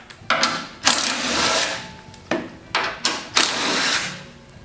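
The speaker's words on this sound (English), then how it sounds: "you're going to need a 1/2-inch socket. And you're going to take out 4 bolts." A 1/2-inch socket wrench removes bolts during a belt replacement on a Poulan Pro machine, giving a series of sharp close metallic clicks and ratcheting bursts at uneven intervals.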